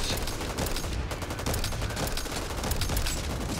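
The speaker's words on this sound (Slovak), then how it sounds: "strieľajú sa tu zombici" Rapid, dense gunfire from shooting zombies in the Back 4 Blood video game, a continuous crackling volley of overlapping shots at moderate level with no pauses.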